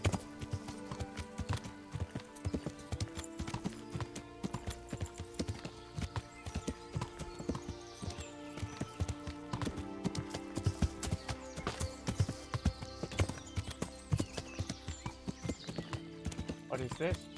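Horse hooves clip-clop steadily in Kingdom Come: Deliverance, a rhythmic stream of close, distinct hoofbeats with occasional whinnies, running alongside continuous game music and someone talking over it.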